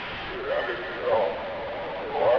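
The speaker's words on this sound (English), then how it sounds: "a distorted radio playing in the background" A distorted radio plays in the background as ambience in the horror video game FNAF 4, with muffled, tinny, band-limited voices swelling and fading in a steady murmur.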